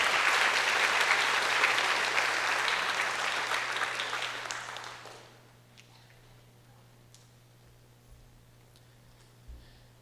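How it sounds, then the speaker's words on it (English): Audience applause for the orchestra members at a Carnatic music recital, a full dense clapping that holds steady, then fades out over a few seconds into near-silent room tone with a low hum. "just a round of applause for all the orchestra members"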